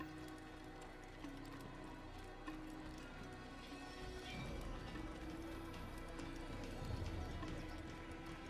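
Horse hooves clip-clopping in the video game Assassin's Creed, a steady rhythmic trot running continuously over a low ambient game soundscape, moderately close and fairly quiet.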